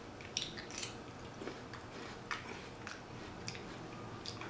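Raw jicama fries are bitten and chewed close to the mic, with a few sharp crisp crunches spread over a quiet background and no talking.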